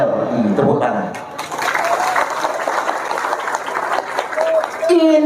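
Audience applause during a speech about NU, a scattered mass of clapping in the middle with talk before and after.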